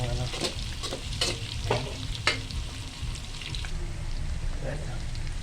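Pork adobo frying and sizzling in a pan with ginger, stirred with repeated scraping strokes over a steady close sizzle, with sharp clacks of the utensil against the pan.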